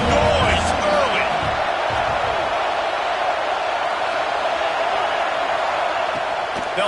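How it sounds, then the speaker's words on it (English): A packed football stadium crowd roars in a dense, steady wash of noise that holds loud and unbroken throughout, with a voice faintly mixed in underneath. "This crowd bringing the energy and noise early."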